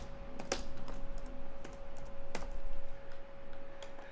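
Keys clatter on a computer keyboard in bursts of quick taps with a few louder clicks, close and clear over a faint steady hum, with no talking.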